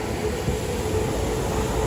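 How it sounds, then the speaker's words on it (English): A Miami Metromover train runs through downtown Miami at night, a steady broadband rumble of rail cars and wheels that stays close and constant, with no talk. "So here's the Metro Mover, I believe."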